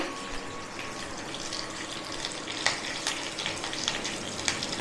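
Curry leaves and mustard seeds frying in hot oil as a tempering for homemade dhokla, giving a steady close sizzle with scattered sharp pops and crackles throughout.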